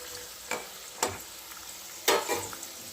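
Milk gokul pithe fry in hot oil with a soft, continuous sizzle, broken by a few brief scraping stirs of a utensil in the pan, close and fairly quiet.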